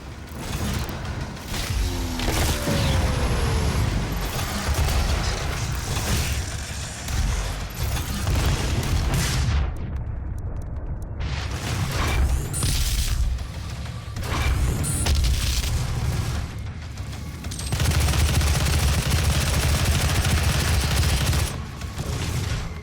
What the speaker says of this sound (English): The majority of the guns in Doom pack a real punch.